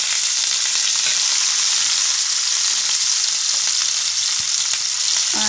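Chopped onion and green chili fry in hot oil, giving a loud, steady, close sizzle that holds without a break from start to finish.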